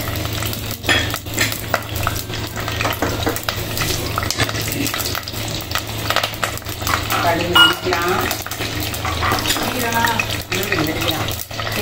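Curry leaves and green chillies sizzle in a pan for mango vathal kara kuzhambu, with stirring and clinking utensils over a steady close crackle and a low hum.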